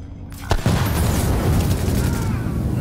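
A thrown mine detonating in the game The Division, a sharp blast after a short quiet start followed by a rumbling roar and fiery crackle that stays loud to the end.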